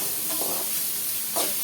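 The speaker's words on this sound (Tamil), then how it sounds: "நல்லா ப்ரௌன் கலரில் வெங்காயம் வரட்டும்" Onions frying in a pan until brown, a soft continuous sizzle with two brief louder bursts of hiss as they are stirred.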